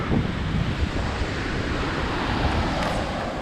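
Surf rolls onto a curving South Goa beach in a steady, close wash, with gusty wind buffeting the microphone throughout.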